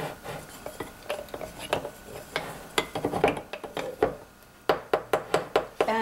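A utensil stirs rosemary into olive oil in a bowl, producing quick, irregular clinks and scrapes against the bowl, close and moderately loud, growing into a sharper, more rhythmic run of taps toward the end.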